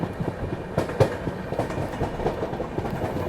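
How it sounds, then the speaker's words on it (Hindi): Riding aboard the Ahmedabad Gorakhpur Express as it overtakes the stationary Sarnath Express near Varanasi Junction, wheels beat a loud, close clickety-clack with irregular rattling thumps over the rail joints. "फिलहाल हम लोग ओवरटेक कर रहे हैं आउटर में खड़ी सारनाथ एक्सप्रेस को"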